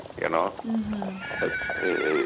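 Horses in a backyard on a 160-acre property whinny loudly and close by, their shrill neighs rising and wavering. A person talks over them.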